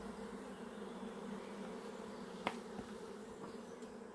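A small honeybee swarm being gathered by hand gives a soft, steady buzzing hum, faint and close, with one brief knock partway through.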